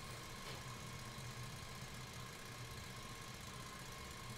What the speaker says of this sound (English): You don't need the tractor running to test it, but I want to preserve my battery.